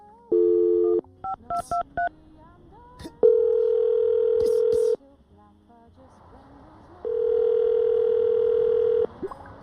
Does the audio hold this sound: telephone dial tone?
yes